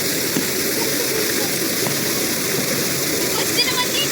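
Steady, loud rushing of river water flowing near a waterfall at a barangay Mabato river swimming spot, a constant broadband roar with faint splashes.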